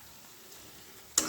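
Onions and vadiyalu frying together in a pan, making a steady close sizzle that ends in a sudden loud burst of spatter or a stir.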